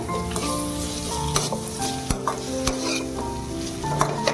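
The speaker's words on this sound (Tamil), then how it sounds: "சேர்த்துட்டு இதை நல்லா வதக்கி எடுத்துக்கணும்" Grated raw mango sautéed in a pan for mango rice, a steady close sizzle with a constant hum beneath and a few sharp spoon knocks against the pan, loud and continuous, with no one speaking.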